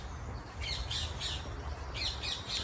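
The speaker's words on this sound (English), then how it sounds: "All the parrots are making their loud noises." Parrots squawking loudly in a series of harsh, raspy calls, three in a quick run, a pause, then three more, close and prominent over a low rumbling background.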